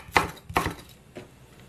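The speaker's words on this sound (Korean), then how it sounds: "대파는 송송, 고추는 요것도 청양이거든요. 이렇게 어슷 썰어 주셔도 되고요." A kitchen knife chops green onion and Cheongyang chili pepper on a cutting board, with three crisp, close strikes at a slow, even pace and no talking.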